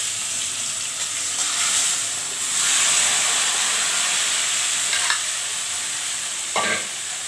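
Mutton pieces frying in hot oil with chili, cumin and bay leaf for mutton kosha, a loud continuous sizzle that swells as pieces go in, with a couple of sharp utensil clinks near the end.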